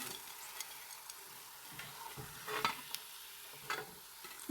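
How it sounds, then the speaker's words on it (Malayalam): Bitter gourd slices frying in oil make a soft, low-level sizzle with scattered light crackles and faint clicks, quiet and continuous with no voices. "മുഴുവനും ഇതുപോലെ ഫ്രൈ ചെയ്തെടുക്കട്ടെ"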